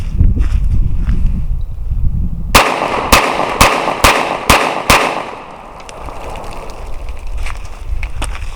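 A Glock 43 pistol fires hollow point rounds outdoors: five sharp, loud cracks spaced about half a second apart, set against steady wind noise and low rumble.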